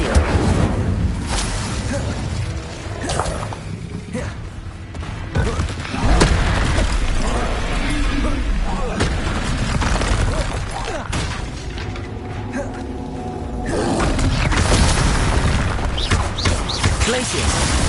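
Incendio fire spell cast in the Hogwarts Legacy video game amid battle, dense whooshing blasts and booming impacts layered with music and effects, loud and continuous throughout.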